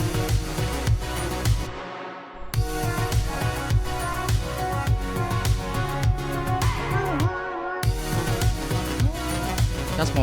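Synthwave lead synth sounds taken from Splice and auditioned against a full mix, a bright sustained lead over a dense beat, with brief drop-outs as presets switch, loud and continuous without talk.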